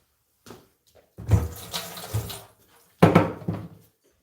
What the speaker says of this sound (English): I'm going to go ahead and rinse my knife off.